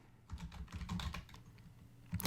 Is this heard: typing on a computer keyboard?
yes